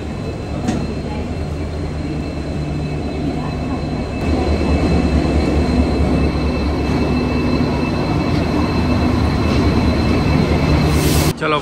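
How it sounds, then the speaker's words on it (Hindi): Mandovi Express pulls into Madgaon railway station, a loud, close, continuous rumble of rolling wheels and carriages with faint squeals over it. "अपना ट्रेन भी देख लो एंटर कर रहा है"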